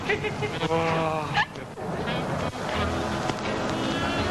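A voice imitates a duck, giving a few nasal quacking calls amid other people talking in a scene from a 1985 Georgian feature film.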